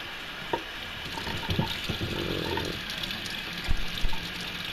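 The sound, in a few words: hot tap water rinsing out a plastic bottle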